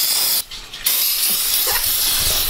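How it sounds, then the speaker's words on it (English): Spray from a hose or nozzle rinsing excess fuel off a Polini 110 pit bike, a steady close broadband hiss that briefly cuts out and then resumes, with no talk. "Got to make sure we spray off all the excess fuel that came out."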